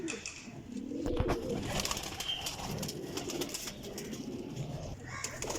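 Flying pigeons kept for sale cooing softly, low murmuring coos amid faint rustling and background noise, with no clear speech over them.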